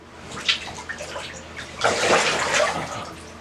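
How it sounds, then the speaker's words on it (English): Water gurgling and washing in a bathtub during an ice bath, with a brief splash early on and then a louder rushing, bubbling swell in the second half, heard close up and without any talk. "Stop draining, you son of a bitch, Tub."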